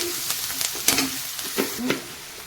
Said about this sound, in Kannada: ಈ ಥರ ಇದನ್ನು ಕೂಡ ಎಣ್ಣೆಯಲ್ಲಿ ಈಗ ಚೆನ್ನಾಗಿ ಫ್ರೈ ಮಾಡ್ಕೋತೇನೆ